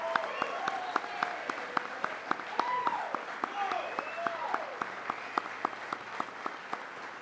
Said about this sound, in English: You all deserve an amazing round of applause for your dedication to supporting our military members and their families.